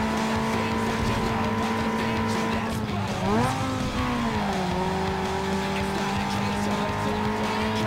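A car engine in Need for Speed Underground 2 drones steadily at high revs, dipping and shifting pitch midway before settling again, continuous and close with a faint tire-noise texture.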